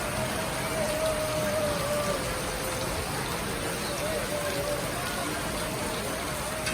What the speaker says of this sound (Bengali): অনেক সুন্দর বৃষ্টি হচ্ছে বাইরে